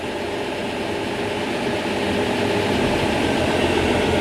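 An old classic car that sat unused for years, its engine running steadily and building slightly as it pulls away in first gear, a continuous close rumble with no talk over it.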